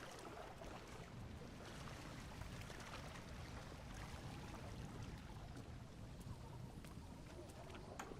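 Steady wind blows on a lighthouse coast in Dear Esther, a faint, constant broadband rush with no distinct gusts, and no other sound stands out.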